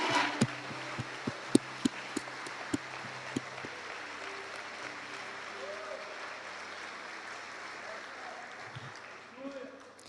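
A church congregation applauds the Lord during a sermon, with scattered sharp claps at first giving way to a faint, diffuse wash of clapping and murmuring voices in a reverberant hall.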